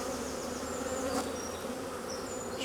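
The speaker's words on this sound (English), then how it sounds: "this colony is full of bees" Honey bees in an opened hive colony at night, a dense, steady buzzing drone close by with occasional individual bees whining past.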